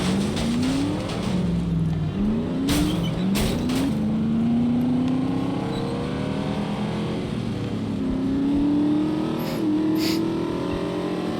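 A car engine in the video game The Saboteur revs and shifts through several rising pitch sweeps, with a steady motor drone and a few sharp thuds or skids, and no talking.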